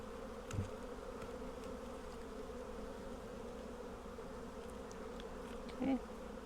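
Honeybees from a package colony buzz steadily and softly throughout an open hive inspection, a continuous close drone with no talk.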